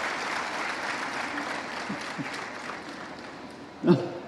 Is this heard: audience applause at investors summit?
yes